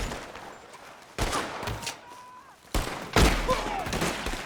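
Gunfire in a Red Dead Redemption 2 shootout, several sharp, loud shots cracking out at irregular intervals with echoing tails, a brief faint voice heard between the blasts.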